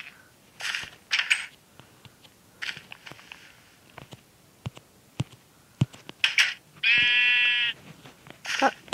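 Repeated synthetic sheep bleats from Minecraft Pocket Edition, loud and nasal, come in short bursts among clicks and small digital effects, with one long sustained bleat near the end.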